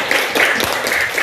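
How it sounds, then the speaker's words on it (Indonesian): Group applause from a classroom of teachers in training, a steady wash of many hands clapping together, fairly loud and close, with no talking over it. "Oke, tepuk tangan semuanya."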